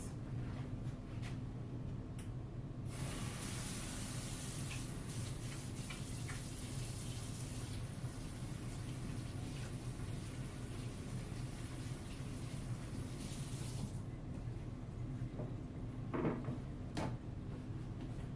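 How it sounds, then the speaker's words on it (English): Hands washed under a running kitchen sink tap, a steady rushing stream with soft splashing, plus a few clunks and knocks partway through. "I'm going to go wash my hands because we just handled raw eggs"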